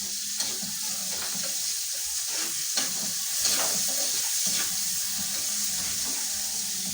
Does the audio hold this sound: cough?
no